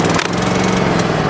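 Champion 2800 inverter RV generator with the choke engaged, a loud steady engine chugging near the microphone after a brief catch at the start, running evenly on its own.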